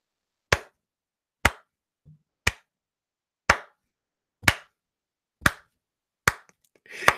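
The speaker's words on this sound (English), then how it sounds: "Slow clap." Slow clap by one person, eight single claps spaced about a second apart, sharp and close with silence between each.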